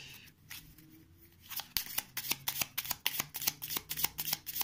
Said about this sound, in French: Et je vais devoir mélanger le paquet.